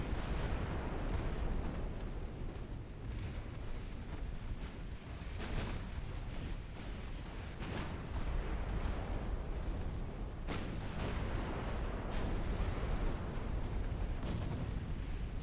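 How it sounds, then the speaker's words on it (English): Naval shellfire in a wartime strategy video game: a dense, continuous roar of big and small shells going off, with repeated booming bursts layered over a constant rumble and no pauses. "There's a lot of big shells being thrown around here, and a lot of little shells as well"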